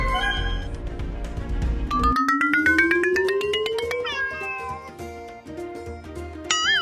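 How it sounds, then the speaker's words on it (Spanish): A cat meows several times, its cries rising and gliding over lively cartoon music, loud and close throughout. "¿Eso es un gato? Sí, es un gato."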